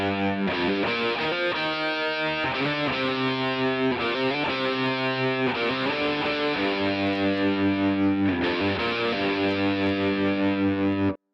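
Distorted electric guitar riff, run through an effects unit with a smooth sine-wave modulation, playing alone with steady loud sustained chords and short breaks between phrases.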